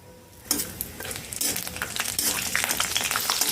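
Unpeeled garlic cloves frying in hot oil for a chutney, a loud bright sizzle that swells up suddenly and stays dense and crackling, with a few scraping stirs.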